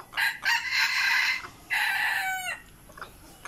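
Roosters crow nearby, with two long cock-a-doodle-doo calls close together, each breaking into a strained trailing note, followed by softer clucks in a quiet farmyard.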